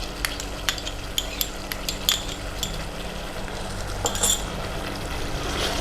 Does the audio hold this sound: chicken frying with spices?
yes